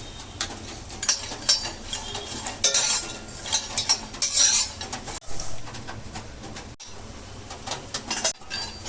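Walnuts and pistachios are dry-roasted in a pan, giving a steady, busy rattle and scrape of nuts being tossed and stirred with a spoon. A few sharper clatters stand out, and no one speaks.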